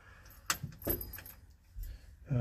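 Car keys jingle and clink as the ignition key of a French car is turned on, with a few close metallic rattles and a soft clunk at the end.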